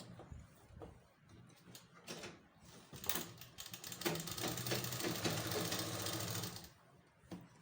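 A sewing machine stitches along the edge of plazo pant fabric, starting with a few short bursts and then running in a steady, close, continuous whir for several seconds before stopping.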